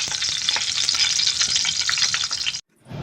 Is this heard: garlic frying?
yes